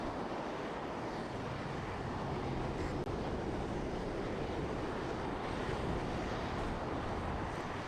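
Steady, continuous roar of an Alpha Jet A in the real-time strategy game WARNO, a broad engine and wind rush holding at an even loudness for the whole stretch with no talk over it.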